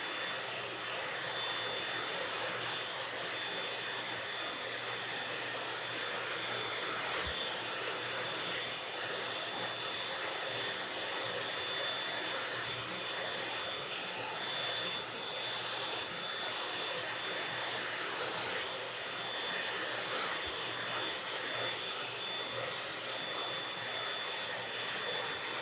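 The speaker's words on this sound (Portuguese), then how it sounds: "Agora vamos secar as laterais." A hair dryer blowing steadily while drying the sides of a men's American-style haircut, a constant close whooshing roar with a faint high whine, no voices.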